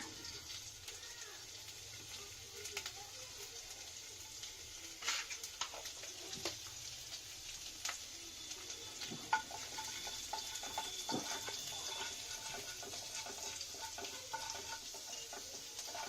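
Low, steady sizzling of garlic frying in hot oil, with faint crackles and occasional clinks of a utensil throughout.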